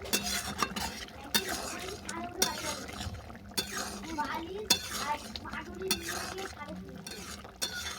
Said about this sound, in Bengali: জিরে গুঁড়োটা ভালো করে মিশিয়ে নিলাম